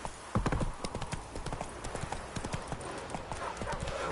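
Roach the horse gallops in The Witcher 3, a steady run of close, sharp hoofbeats with brief game ambience between strikes.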